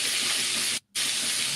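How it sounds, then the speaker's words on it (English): Steady broadband frying-grease sizzle, loud and continuous, with one brief dropout near the middle; no talk. "now all we hear is like frying grease"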